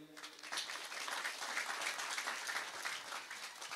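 An audience at an Islamic sermon gathering in Kebumen applauds, a soft, distant, continuous patter of clapping with no speech over it.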